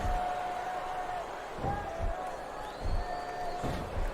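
Arena crowd from the WWE Smackdown vs Raw 2007 video game, a steady wash of murmuring spectators with a few louder swells and thumps, faint whistles and tones over it, continuous and mid-distance throughout.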